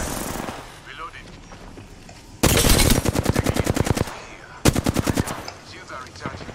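Automatic gunfire in the video game Apex Legends comes in two loud, rapid bursts of evenly spaced shots, the second one shorter, with quieter game ambience between them.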